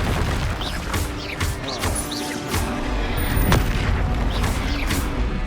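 Spell blasts from Hogwarts Legacy combat, a run of loud booming, crashing magic explosions with crackling bursts, dense and continuous over game effects with no talk.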